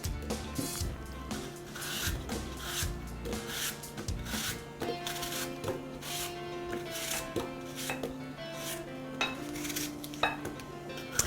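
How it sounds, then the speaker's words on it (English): Knife slicing apples straight off the core into a medium-sized casserole dish, a steady run of close, crisp cuts and clicks against the dish, no talking. "you can just slice them right into a medium-sized casserole dish"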